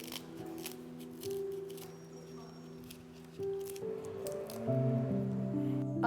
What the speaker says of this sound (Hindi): 5 लेके इसको फोल्ड करके ऐसे काट देते हैं टुकड़ा टुकड़ा